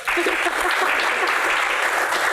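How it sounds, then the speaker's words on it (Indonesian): A live Q&A audience breaks into a loud, dense round of clapping that holds steady and continuous throughout, without a pause. "Dipahami, tepuk tangan dong."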